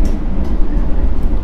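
Steady low rumble and rolling clatter inside an Argo Lawu passenger train's New Generation restaurant car on the overnight Jakarta to Jogja run, continuous and fairly loud with no talking.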